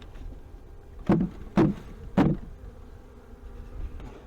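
Honey bees just removed from a hive cut out of a front porch column give a low hum, with three sharp bumps or knocks near the box standing out over the steady buzzing.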